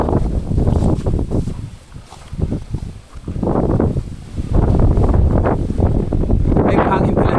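Strong wind buffets the microphone on Busay Hill on Biri Island, a continuous loud roaring rumble that swells and eases in gusts, with a brief lull before rising again.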